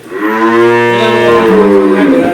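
A pregnant cow, about nine months along, lets out one long, loud, close moo with a rising and falling pitch, sustained for over two seconds with no talk.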